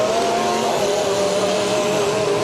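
Racing car engines roar continuously and loudly at a county derby in Portage County, a steady close drone with a held pitch and no pauses.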